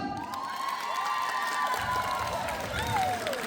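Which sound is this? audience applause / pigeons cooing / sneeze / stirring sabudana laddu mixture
audience applause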